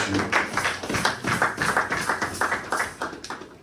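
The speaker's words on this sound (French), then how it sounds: "On acclame très fort pour notre Dieu." A church congregation claps loudly and rhythmically in praise during an evangelical service, a steady dense patter of many hands continuing throughout without talk.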